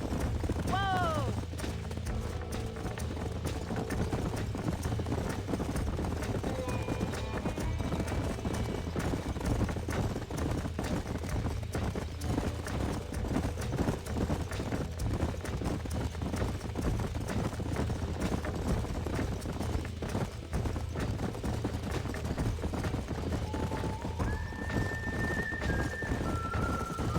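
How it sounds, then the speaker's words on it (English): Horses gallop in Red Dead Redemption with dense, continuous hoofbeats, along with occasional whinnies and voices over the long run. "These are fine horses."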